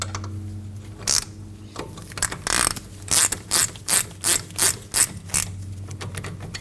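A ratchet snugs down brake bolts on a Ford Edge, its pawl clicking in several short close bursts that turn into a rhythmic series of evenly spaced ratcheting strokes, with no talk.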